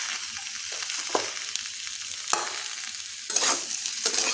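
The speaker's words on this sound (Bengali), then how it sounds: "এখন আলুটা একটু কষে নেব 2 মিনিট" Boiled potatoes fry in a pan with a loud, continuous sizzle, broken by several sharp scraping knocks of a spatula stirring them, close and alone.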